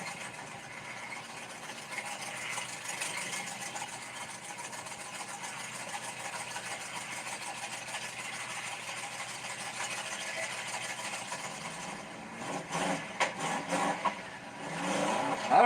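A car engine fitted with a performance camshaft runs at a steady, moderately loud idle, then breaks into a few uneven revving bursts toward the end.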